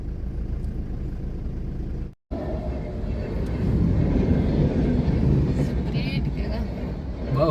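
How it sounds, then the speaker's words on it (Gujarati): Train rushing past a closed railway crossing, a loud, close, continuous rumble and roar that builds and holds, with a brief dropout partway through. "ફાટક બંધ છે, રેલવે આવે છે ભાઈ."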